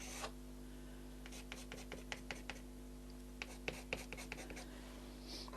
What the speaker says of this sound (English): And then I've got a Conte pastel here, which is white. And I can just add in some of the finer lines